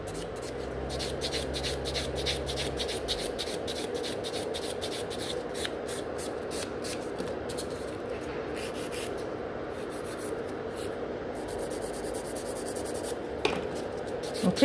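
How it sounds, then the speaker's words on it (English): A nail buffer works over sculpted fiber gel nail extensions on forms, giving a steady scratchy rubbing made of rapid back-and-forth strokes. It stays close and even throughout, with no talk. "the buffer is just perfecting this shape. It's still creating lots of scratches and just making the nails nice."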